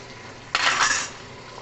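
Eggs being mixed into minced beef in a cooking pan for a spaghetti beef sauce, heard as a brief burst of scraping, clinking stirring about half a second long, alone and close.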